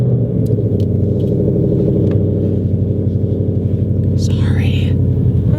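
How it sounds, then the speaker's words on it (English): Car engine cold start, a loud, close, steady low rumble with rapid pulsing idle firing throughout, with a faint breathy noise near the end. "the cold start is always the loudest"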